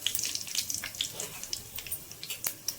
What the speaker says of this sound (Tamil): கடுகு, சீரகம், உளுத்தம்பருப்பு சும்மா கொஞ்சமாக சேர்த்துக்கிட்டு இது பொரிட்டு இருக்கும்